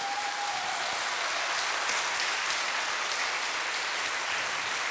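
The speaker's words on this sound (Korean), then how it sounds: "교수님께 다시 한번 큰 박수 부탁드리겠습니다" Steady audience applause at a Lenten retreat in a New Jersey church, many hands clapping in a dense, even wash that holds at one level throughout.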